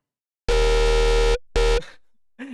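A bright, harmonically rich synth lead through a phase distortion plugin plays a held note, cuts off, then returns briefly before fading into a faint sweeping tail.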